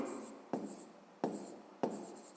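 Pen strokes across paper while a maths solution is written out, a soft continuous scratching broken by three sharper taps as the pen lands, close and alone.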